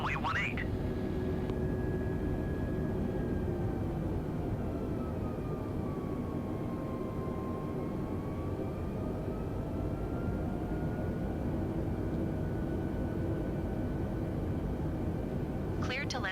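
An Airbus aircraft landing on runway 18 at night, a steady loud jet engine drone with a slowly sliding whine, continuous throughout, while radio voices talk over it.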